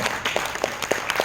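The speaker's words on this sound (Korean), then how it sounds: "김일태 원장님께 박수 한번 보내주십시오" Audience members at a Korean cultural and arts society lecture give brief, sparse applause, a handful of distinct claps spaced irregularly over a second, fairly faint in a quiet room.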